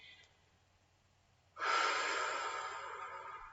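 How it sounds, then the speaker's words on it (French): A forceful breath blown out through the mouth during a guided relaxation exercise bursts in after a quiet held pause, a long loud airy whoosh that slowly tapers off, close up with no talking. "Et à l'expire, vous soufflez."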